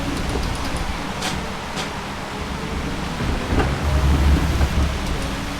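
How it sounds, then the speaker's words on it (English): Steady heavy rain hisses through a Forza Motorsport race, with low rumbling thunder swelling louder toward the end. "The rain seems to be getting slightly worse."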